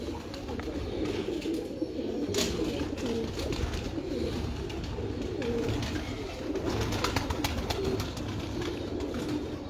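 Pigeons coo in low, repeated throaty burbles, close and continuous, with faint rustling and background noise.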